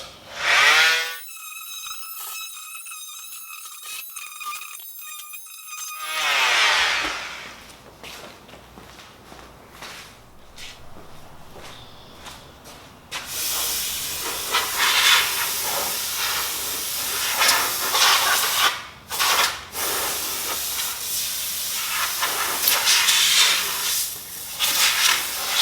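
A power sander works on an RV tail light housing, a steady hissing, rasping grind after an opening high tonal whine, loud and close with brief pauses and no talk.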